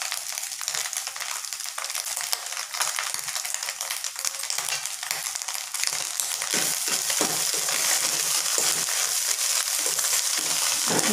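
Fish roe fry sizzles hard in a pan as fresh coriander and curry leaves go in, a loud, steady, crackling hiss that grows a little brighter and busier halfway through, with no talking.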